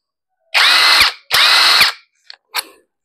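A Purple Star 48V cordless brushless electric impact wrench runs in two loud, close bursts of high whirring, each about half a second, followed by a couple of brief, quieter blips of the motor.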